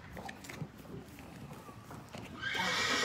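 Horses in stables at a dressage competition venue, with hooves clopping and shuffling on the ground, then a loud, high whinny breaking out near the end, fairly close, with a little background talk.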